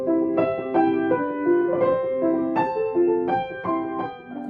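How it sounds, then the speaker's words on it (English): Piano playing Mozart's Sonata in C, K545, a clear, bright melody over a steady broken-chord Alberti bass accompaniment, evenly paced notes at close range with no talking. "Let's look at the Mozart Sonata in C, K545. It sounds like this."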